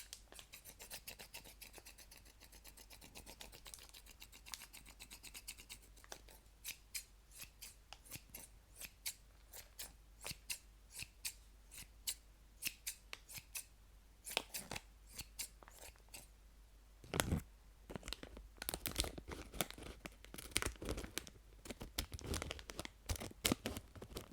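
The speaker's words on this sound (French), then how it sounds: "on va ouvrir le paquet et j'ai pris un ciseau avec moi" Scissors snip open a plastic candy packet with many sharp, close cuts, sparse at first, then a louder tearing crinkle of the wrapper followed by rapid, dense snipping and rustling, quiet and intimate with no voice.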